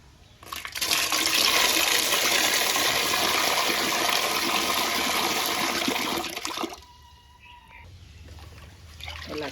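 Running tap water pours steadily for several seconds while dried shrimp are washed, then cuts off to quiet trickling and small drips.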